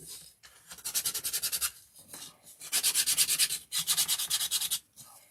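Rhythmic back-and-forth hand sanding on a wooden cabinet, close up, in several bursts of rapid strokes separated by short pauses.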